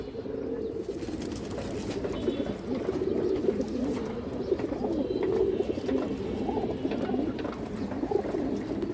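Pigeons coo continuously in a dense, murmuring chorus in a loft holding a light-coloured green-toned hen pigeon, with a steady background hum and no voices.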